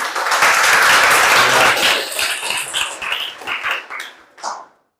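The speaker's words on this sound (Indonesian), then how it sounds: "Tepuk tangan dulu untuk temannya." A classroom of students claps for a classmate, a dense burst of applause that thins into scattered, uneven claps and stops abruptly, with no talk over it.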